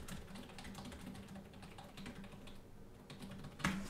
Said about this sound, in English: we'll do a little typing thing here